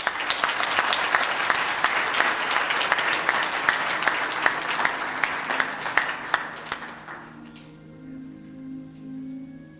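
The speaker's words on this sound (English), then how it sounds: "Let's have another nice round of applause for the Excel Group" Audience at a chamber of commerce awards ceremony applauding a construction winner, a full room of clapping with a few crisp, regular near claps standing out, fading out around eight seconds into a low room hum.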